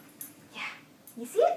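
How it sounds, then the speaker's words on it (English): A pet dog whimpers and yips in a bedroom, a short high whine rising near the end after brief soft sounds, with people talking quietly around it. "That's my dog"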